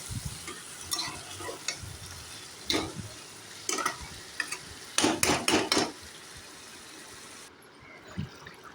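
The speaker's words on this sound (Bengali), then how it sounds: "তো দেখতেই পাচ্ছেন এই যে চিকেনটা ভালো করে কষা হচ্ছে।" Chicken cooked with ginger and garlic is stirred and browned in a hot pan for a thin curry. Irregular scraping strokes of the spatula sound over a soft, constant sizzle.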